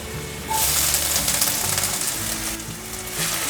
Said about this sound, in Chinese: 现在放入香菇